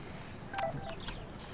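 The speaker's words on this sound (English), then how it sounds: "We have a text message from Warren, so let's see what he's typing." Short electronic chime of a text message notification in the video game Life is Strange, a brief bright tone cluster over quiet background, no speech.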